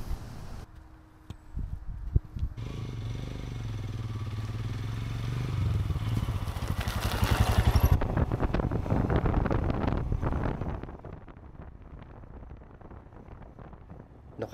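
A Royal Enfield Himalayan motorcycle carrying full luggage rides along small roads through sand and heathland, its engine droning and rising under heavy wind buffeting on the microphone, then falling away to quieter rumble near the end.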